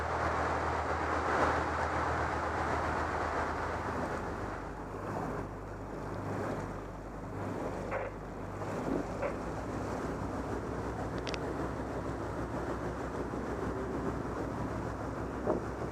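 A boat steams along the Elizabeth River past downtown Norfolk on a gloomy day, with a steady low rumble of engine and water wash under constant wind buffeting the microphone, and no talk.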